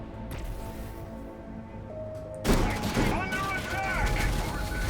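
Snipers fire during a 1v1 Dawn of War 3 battle. After a quieter stretch, a sudden burst of layered gunfire and impacts breaks in and continues amid busy battle noise and talk.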